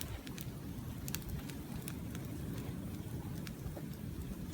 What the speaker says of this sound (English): the rain's on, wind's picking up, but we have a bonfire.